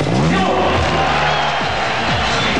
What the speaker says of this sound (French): je crois que vous pouvez déjà applaudir ce premier